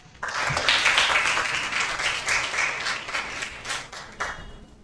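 Audience applause for a speaker at a Day of the Girl Child commemoration, starting abruptly, loud and dense, then thinning into scattered claps that fade out toward the end.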